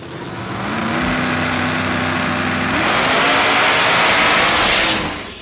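Two drag race cars, Poison Pinto and Cut Rocker, roar side by side in a loud sustained engine run that swells and shifts pitch midway, then fades at the end.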